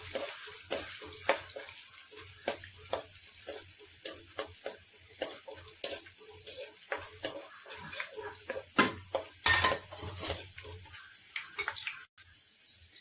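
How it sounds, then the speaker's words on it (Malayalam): Raisins being fried in a pan while making egg biryani. The sizzle is irregular, with a run of sharp crackling pops and spits over a low hiss, close up and moderately loud. "ചെറുതായിട്ടൊന്ന് മൂപ്പിക്കാം. വഴറ്റിയെടുക്കാം."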